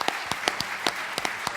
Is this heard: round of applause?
yes